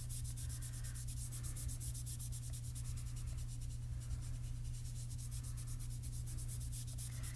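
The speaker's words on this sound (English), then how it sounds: "I just can go in and erase it" Colored pencil on paper being erased with steady, rapid back-and-forth rubbing strokes, soft and close, running continuously over a low steady hum.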